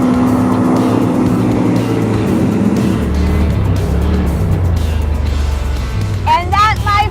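A Polaris RTR XP Turbo off-road vehicle drives with a loud, continuous engine roar that shifts in pitch, and a voice cuts in over the engine near the end.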